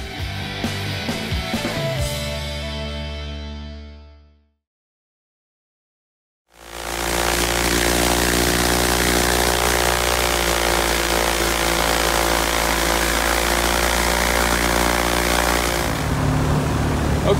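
Grumman aircraft engine and propeller idling during a DynaVibe prop balance, a loud steady droning hum that stops abruptly for about two seconds, then restarts and holds a constant, close, throbbing roar.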